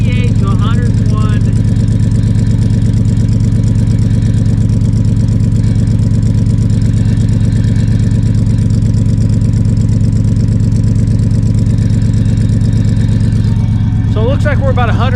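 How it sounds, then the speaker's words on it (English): Loud, steady idle of a Cobra Daytona build's engine rumbles through its exhaust close up, a deep constant drone with faint voices over it near the end. "still pretty dang loud at idle."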